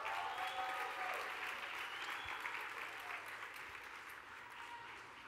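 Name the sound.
audience applause for panel at a conference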